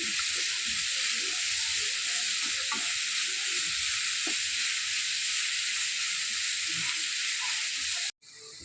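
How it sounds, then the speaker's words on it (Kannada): Chicken pieces fry on a high flame for tandoori tikka masala, giving a steady, bright sizzle and hiss of hot oil that runs evenly for several seconds, with faint stirring clicks underneath before cutting off abruptly near the end. "ಫ್ರೈ ಆಗಿ ಕಂದು ಬಣ್ಣ ಬರಬೇಕು, ಅಷ್ಟರವರೆಗೆ ಫ್ರೈ ಮಾಡಬೇಕು. ಹೈ ಫ್ಲೇಮಲ್ಲೇ ಫ್ರೈ ಮಾಡಿ."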